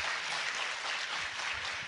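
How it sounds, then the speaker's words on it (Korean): Steady applause from an audience filling a city hall auditorium at a public science talk, a dense, even wash of clapping that holds at full strength for about two seconds. "박수 한번 주십시오"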